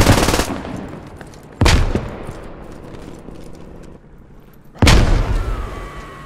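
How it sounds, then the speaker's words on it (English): A frag grenade blast and gunfire in the military shooter Squad: three sharp, loud booming reports spaced a second or more apart, each followed by a rumbling tail. "Fragging, frag out."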